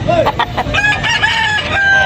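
A rooster crows loudly and close by among chickens for sale, with clucking from other fowl around it and a voice talking briefly in the background.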